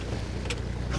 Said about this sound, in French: Coupe le moteur, ouais.